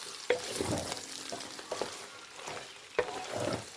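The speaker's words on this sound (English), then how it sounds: "Let it fry. A lot of pork, so I put a lot of onions." Pork shoulder and onions frying in a pan give a close, continuous sizzle with scraping stir strokes and a few sharp knocks of the utensil against the pan.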